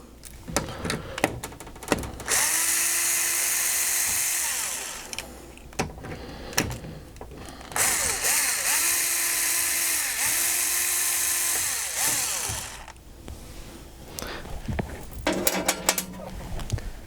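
A power drill removes four bolts from a Rescue 911 pinball machine, giving two sustained whirring runs of a few seconds each with short pauses and bursts between, close and loud, with clinking and handling noises around them.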